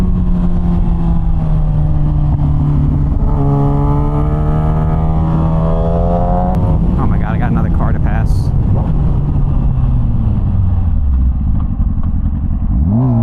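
A Yamaha R6 sport motorcycle's engine drones loudly and continuously while riding, its tone rising and falling with throttle over wind noise, with a voice talking over it.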